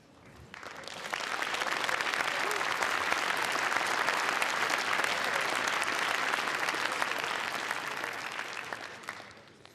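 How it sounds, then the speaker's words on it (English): An audience at the Startup Awards 2016 ceremony breaks into applause that swells within a couple of seconds, holds as a full, even roar of clapping, then fades away near the end. "I like the applause."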